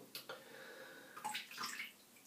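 Bloom water poured out of a shaving soap bowl gives a brief faint splash and trickle in a quiet room, with a few small clinks.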